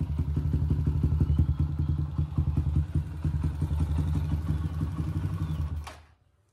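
A motorcycle engine running with a repaired PWK 28 CPO carburetor idles with a steady, rapid thumping pulse, close and loud, then cuts off abruptly near the end.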